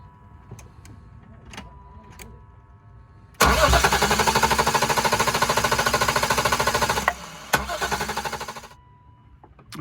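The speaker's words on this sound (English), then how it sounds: "he's going to crank it over about 8 times or so, kind of until we see the needle stop moving" Starter cranking on a BMW E36 M3 engine during a compression test, a rapid, even, rhythmic chug lasting about five seconds, close and loud, with a brief pause and a second short burst before it stops.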